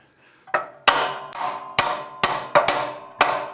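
Sharp metallic hammer strikes ring out close by as a secondary air tube is driven into place in a Regency stove, seven blows at an uneven pace, each leaving a short ringing decay.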